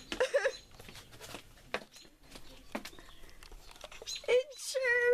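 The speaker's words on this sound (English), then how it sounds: "It chirped." Small birds kept indoors give short high chirps and peeps between stretches of conversation, a few calls near the start and a sustained chirp at the end, heard under and between voices.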